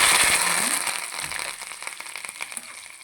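Almonds and cashews frying in oil in a pan for curry leaf pongal, a dense crackling sizzle that starts loud and gradually thins into sparser pops over a few seconds, with no talking.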